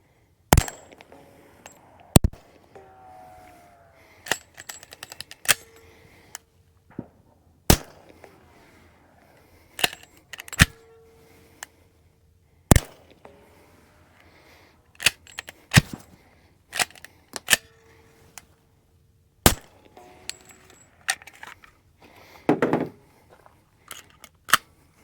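Suppressed FNX 45 pistol fired in a series of sharp, muted cracks, about fifteen shots spaced irregularly with pauses between, some in quick pairs, with faint metallic clatter in the gaps.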